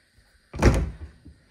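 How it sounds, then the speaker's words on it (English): Doors on a repurposed old TV entertainment center, now a garden storage cabinet, opening and sliding back in: one loud, close wooden thunk with a short rumbling slide trailing off. "these doors open and slide back in."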